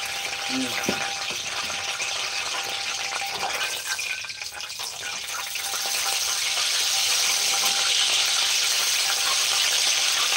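Chopped garlic frying in hot oil in a wok hisses with a steady, bright sizzle, which swells louder and denser partway through as the pan heats up.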